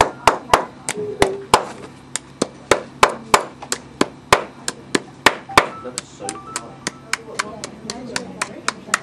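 Steady hammer blows drive down rivets while a Derby shoe is lasted, roughly thirty sharp taps in an even, quick rhythm, close and distinct, with no talking.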